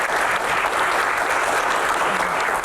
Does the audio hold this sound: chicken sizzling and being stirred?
no